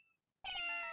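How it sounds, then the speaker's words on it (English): A single cat named Shoo in a video game gives one clear, loud meow that rises and falls in pitch, following a brief faint tone and a moment of silence. "Yay, kitty!"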